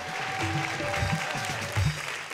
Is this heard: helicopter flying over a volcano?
no